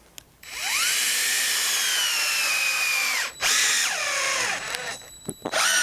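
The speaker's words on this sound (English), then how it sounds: "I'm going to take this piece and the cone splitter just as a comparison." A cone splitter driven by a cordless drill whines loudly and steadily as it bores into a piece of firewood, then cuts out, restarts and strains with a dropping pitch before stopping.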